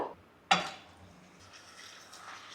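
Small prawns dropped into about four spoons of hot oil in a cooking pan give a sharp clatter and splash, followed by a faint, steady sizzle with no talking.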